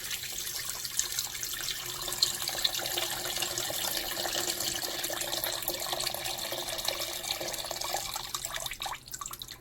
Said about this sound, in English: you cover it with cold water, guys, in the pot